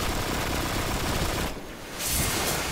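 Sustained rapid fire from the Unbent Tree legendary gun in Destiny, a dense continuous burst that briefly cuts out before resuming, loud and close with no talking.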